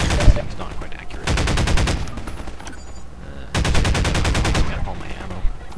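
Automatic gunfire in the video game Half-Life 2, two loud sustained rapid-fire bursts of sharp rhythmic shots separated by a brief pause, close and dominant.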